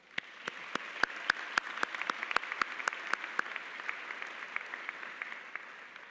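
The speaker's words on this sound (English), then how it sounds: "give yourselves another round of applause" Graduates at a law school commencement applaud, a broad wash of clapping with a few sharp, loud claps standing out near the front, sustained for several seconds.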